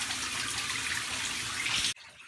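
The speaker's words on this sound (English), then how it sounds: "Shower time." Shower water runs in a steady, hissing spray close by, then cuts off abruptly near the end, leaving quieter room sound; no one speaks.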